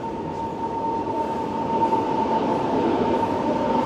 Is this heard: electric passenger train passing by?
yes